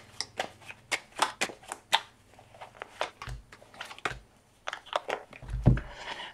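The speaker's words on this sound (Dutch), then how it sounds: "Ik ga de kaarten schudden om te kijken wat deze week voor jou gaat brengen." Tarot cards being shuffled by hand, a run of quick papery riffles and snaps, close and fairly loud, with a few soft thuds as the deck is squared.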